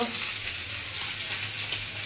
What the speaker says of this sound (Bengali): দেখো রান্নাঘরের থেকে এখানে মাছ ভাজা হচ্ছে, ফলি মাছ।